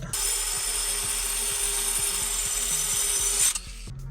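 A power tool cuts steadily through a rusted muffler on a motorhome with a CAT C7 engine, giving a loud continuous grinding rasp with a rhythmic low stutter that stops abruptly near the end.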